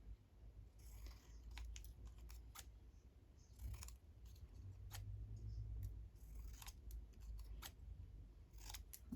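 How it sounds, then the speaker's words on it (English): Scissors snip through paper tags in short, quiet cuts scattered over a low, steady background hum. "Not those scissors, these scissors."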